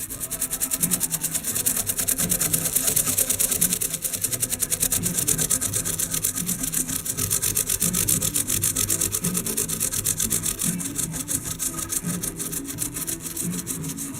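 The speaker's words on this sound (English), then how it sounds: "Get right up next to them and use that toothbrush to do the work" A toothbrush scrubs hard along the fretboard and frets of a Seagull acoustic guitar, a fast, steady, close rasping rub with bright bristly hiss repeating without break for about fourteen seconds.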